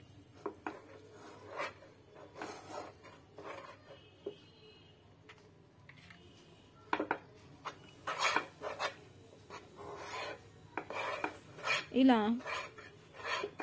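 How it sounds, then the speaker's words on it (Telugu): A spoon stirs an almond mixture with ghee in a pan, giving repeated scraping and clinking bursts at close range, with brief talking in between. "ఇప్పుడు స్టవ్ ఆఫ్ చేసేసుకొని నెయ్యి వేసుకొని బాగా కలుపుకోవాలి."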